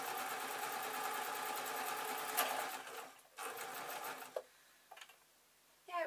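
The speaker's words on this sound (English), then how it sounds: "I'm going to fold over and I'm going to sew one end" A sewing machine stitches fabric for an owl toy, running with a loud, steady close whir for about three seconds, then stopping and restarting in short bursts.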